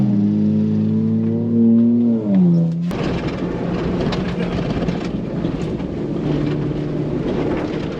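A Ford Bronco driving off-road at speed through whoops, a steady loud engine drone and rumbling road noise following a rising and falling engine note.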